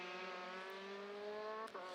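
A Euroformula Open race car picks up speed on the Hungaroring track during qualifying, its engine a faint, steady rising whine that swells slightly as it gets going.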